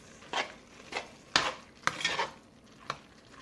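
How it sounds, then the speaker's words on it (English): A spoon scrapes and knocks against a Dutch oven while jambalaya with crushed tomatoes is stirred, several distinct close strokes spaced unevenly with quiet gaps between. "And give it a stir."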